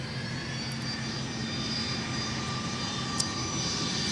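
A jet airliner on its takeoff run at Minneapolis–St. Paul Airport, a steady, broad engine roar that holds level throughout with no voices over it.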